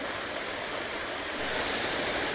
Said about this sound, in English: So there we go, there's Troll Waterfall.